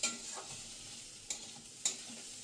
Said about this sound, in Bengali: এইটা আমি মুগ ডাল ভাজছি